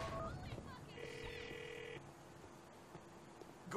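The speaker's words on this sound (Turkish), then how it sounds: "Kesin telefon çalacak şimdi." A phone rings in the video game GTA 4, a near electronic ring tone sounding over game background noise for about a second before fading, with a brief voice-like noise at the start.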